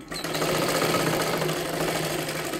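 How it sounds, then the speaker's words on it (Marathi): A sewing machine runs continuously, stitching a size 40 katori blouse, its steady mechanical whir and rapid needle rattle close and even throughout after a brief start. "हे पहा इथे एक 5 नंबरची शिलाई मारून घ्यायची आहे."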